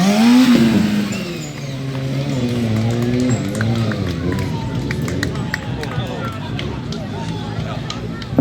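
A stunt motorcycle engine revs and idles unevenly, its low throb rising and falling steadily close by, with crowd murmur in the background.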